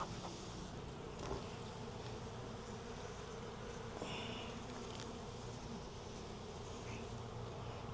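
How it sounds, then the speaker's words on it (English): Honey bees buzz continuously in an open eight-frame Langstroth hive during a spring apiary inspection, a dense, steady close hum with no talk. "Got 2 seams of bees here, a couple over here."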